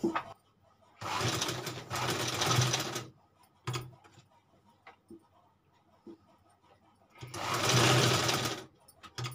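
A sewing machine stitches along a fabric edge in two loud bursts of rapid mechanical whirring, separated by a quieter pause with faint clicks and a brief tap, heard up close indoors.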